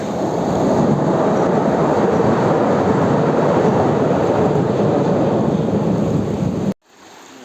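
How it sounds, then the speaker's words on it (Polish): A loud, steady roar of a train rushing past nearby, continuous for several seconds before cutting off abruptly. "I pociąg."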